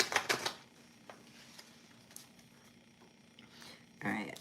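Tarot cards are shuffled in brief crisp riffling bursts, a quick flurry at the start and another near the end, with quiet handling in between.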